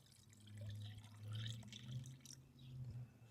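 Faint gurgling and bubbling of trapped air working through the cooling system of an overheating Chevrolet Impala, a soft continuous liquid burble with low rumbling underneath.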